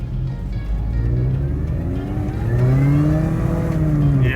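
A supercharged R53 Mini Cooper S with a worn clutch accelerates in second gear, its engine note climbing steadily in pitch as revs build, loud and close from inside the car without any talk.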